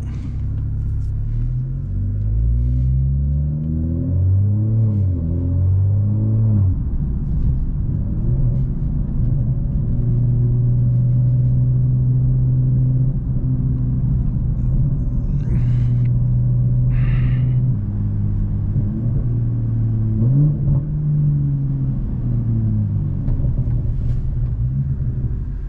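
Heard from inside the cabin, a 2022 BMW M240i xDrive engine with a Cobra axle-back exhaust drones as a steady low rumble, with rising revs early on and then a long even cruise, loud and continuous with no talking.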